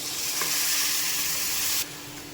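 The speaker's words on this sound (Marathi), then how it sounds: "गरम पाणी जे मी ठेवलेलं होतं ते आपण टाकून घेणार आहोत" Hot water poured into sizzling oil in a pan for an amla and raw mango chutney gravy, making a loud, close hiss that holds steady and then drops off abruptly near the end.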